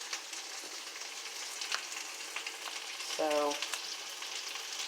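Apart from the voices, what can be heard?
turkey sausage frying in a pan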